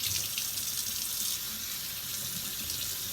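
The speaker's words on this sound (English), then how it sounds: "first rinse that off." Water pours steadily from a sink tap in a close, continuous hiss as dyed fabric is rinsed, with no voices and nothing else over the flow.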